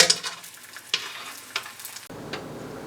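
Corn tortillas frying in hot oil over high heat in a pan, a steady crackling sizzle with several sharp stir or flip bursts, close and loud, no talking.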